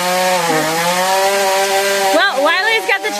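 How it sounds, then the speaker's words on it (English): A chainsaw runs outdoors in a snowy off-grid winter setting with a loud, buzzing, steady engine drone that dips and rises in pitch, and a voice briefly breaks in near the end. "got the chainsaw going"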